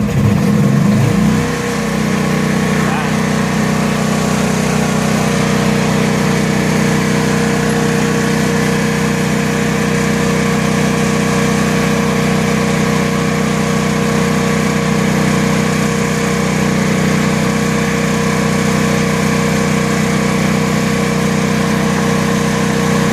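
A Honda RV generator, started by remote, cranks briefly then settles into a steady, loud mid-pitched running hum that continues unchanged for over twenty seconds.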